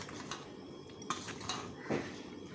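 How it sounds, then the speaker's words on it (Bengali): Lemon pickle mixed with cooled oil and spices in a bowl, heard as soft, scattered clinks and scrapes of a utensil against the dish, fairly quiet with a few sharper taps; no speech. "ওই তেল মশলা বেশ ভালো করে এটাকে মেখে নেব"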